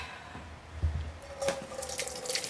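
Gravy drippings pour from a saucepan through a colander into a pan, a soft liquid trickle and splashing that gradually builds, with a few light clinks of cookware at a moderate distance.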